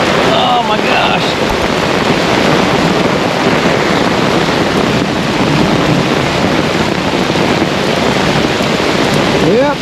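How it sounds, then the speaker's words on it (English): Heavy rain and gusting wind pound a tent during a Wisconsin thunderstorm while camping, a loud, steady roar of downpour and wind buffeting that fills the whole stretch, with faint voices mixed in. "all that rain just went right to the tent"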